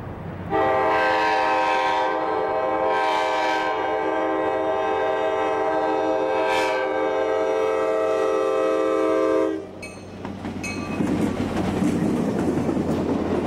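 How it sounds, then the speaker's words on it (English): A westbound commuter train at a level crossing near the Chesapeake and Ohio Canal National Historical Park sounds a loud, sustained horn blast for about nine seconds, then the cars rumble and clatter past up close. "the train is again coming"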